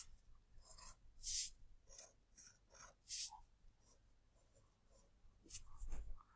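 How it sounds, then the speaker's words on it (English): Pencil sketching on paper: soft scratchy strokes in short bursts, a few louder, quicker scribbles among them, close and quiet with no talk. "I'm going to sketch that in."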